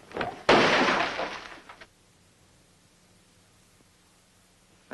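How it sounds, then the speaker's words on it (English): A glass thrown hard shatters in one sudden, loud crash, followed by a second of tinkling fragments before quiet returns. "That glass was traveling about 50 miles an hour when it left my hand. Look. At all those broken pieces."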